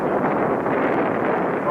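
Strong, steady wind roars across the microphone throughout while an X520 VTOL drone flies in high winds, a constant broadband rush with no breaks.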